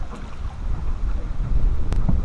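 Wind buffets a microphone outdoors on a lake while fishing, a steady low rumble that gusts louder toward the end, with faint water in the background.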